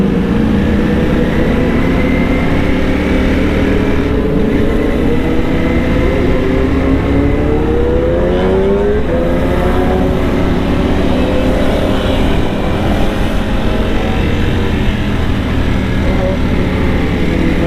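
A Ducati Panigale V4 motorcycle ridden on a busy road, its engine a steady loud drone with a shifting, rising pitch and road and wind noise throughout, no talk.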